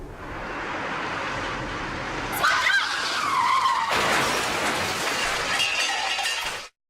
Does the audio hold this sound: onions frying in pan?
no